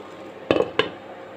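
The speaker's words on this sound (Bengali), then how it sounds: "আবারও ঢাকনা দিয়ে দিব।" Lid set on a cooking pan of shrimp, two quick metallic clanks a fraction of a second apart, close and clear over a faint background hum.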